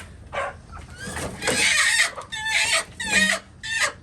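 Hens cluck in a backyard coop where some sit brooding on eggs, giving loud, close bursts of fowl calls in short groups, with a voice speaking among them.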